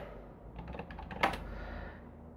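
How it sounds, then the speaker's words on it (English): Quick keystrokes on a computer keyboard while entering a Rails server command on Linux, a close, rapid burst of clicks with one sharper key press near the middle, then fading. "We just launch our application by typing Rails server"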